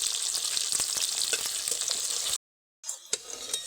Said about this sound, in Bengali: এগুলোকেও আগের বারের মতন করে লাল লাল করে ভাজবো